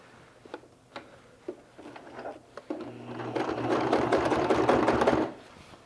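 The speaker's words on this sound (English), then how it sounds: "let's first start off by sewing this side down here" A sewing machine stitches a 1/4 inch seam on a hydration sleeve. A few single ticking stitches come first, then a steady, whirring run of close stitching that stops abruptly near the end.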